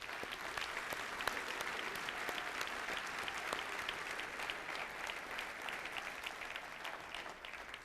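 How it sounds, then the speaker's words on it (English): A large audience at a county government address in Oakland County, Michigan, claps steadily and densely. The applause is sustained and evenly spread, heard from a moderate distance without any speech over it. "Let's give Ken a round of applause."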